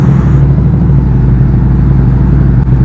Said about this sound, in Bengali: বাইকটা স্টার্ট করে নিতে হবে।